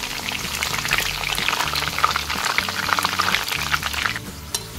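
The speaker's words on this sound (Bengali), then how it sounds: "এবার আমি দিয়ে দেব কড়াইতে চিপস ভাজার জন্য" Potato slices for homemade chips frying in hot oil in a wok in a village kitchen, a busy bubbling sizzle with crackles and a low background hum, steady and close.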